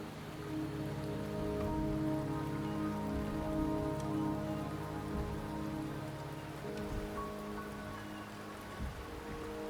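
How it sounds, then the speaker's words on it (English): Steady rain falls on surfaces in the video game Wuthering Waves, a dense continuous patter with low tonal music humming underneath, no voices. "The rain is subsiding, and the sky will soon clear."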